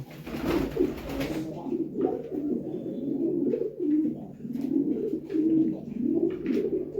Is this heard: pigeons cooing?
yes